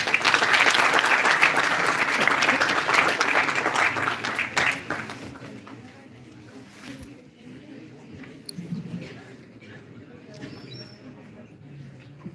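A conference audience at a GIS Day event gives a big round of applause to welcome a speaker on stage, dense and loud for about five seconds before thinning into scattered claps and quiet room noise.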